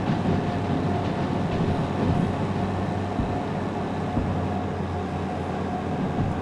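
A long train rolling steadily in the Derail Valley simulator game, a constant low rumble and drone of wheels and cars on the track, close and even throughout with no talk.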